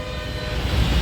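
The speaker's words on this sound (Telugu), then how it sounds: "ఆ పైన నుంచి ట్రైన్ వెళ్తుంది" A train rumbles along an overhead track, a steady close rolling roar with faint tonal hum and wheel clatter filling the short moment.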